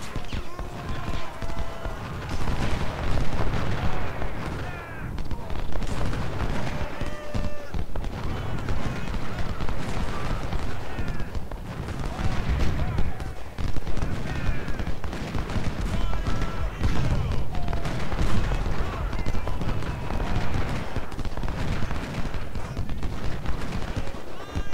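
Civil War artillery guns and massed gunfire rumble through a Battle of Shiloh fight in the strategy game Ultimate General. The din is dense and continuous, with overlapping booms and crackling volleys throughout.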